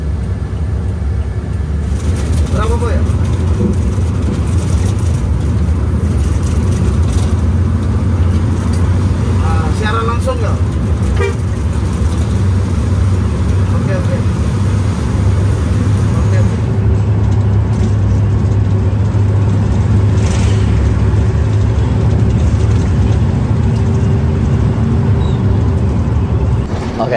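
Inside a Restu Panda Comando bus cruising the toll road from Ponorogo to Surabaya: a loud, continuous low engine and road rumble fills the cabin, with faint rattles and a voice speaking over it.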